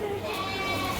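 A baby sheep, a lamb on a farm, gives a single wavering bleat held for about a second, close and fairly loud.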